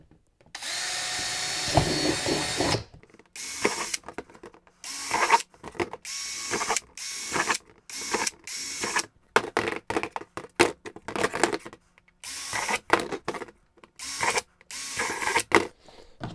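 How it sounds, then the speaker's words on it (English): A power drill bores holes in plastic, close and loud, in repeated short bursts of whirring and grinding separated by brief pauses, with crackly ratcheting bits between runs; nobody speaks. "Now we're just gonna drill some holes."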